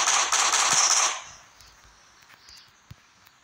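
Burst of rapid gunfire from a video game, loud and dense for about a second, then fading to scattered faint clicks and one sharp pop near the end.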